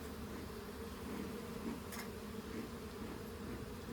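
Bees buzz steadily around the top of a strong hive, a soft continuous drone with no voices.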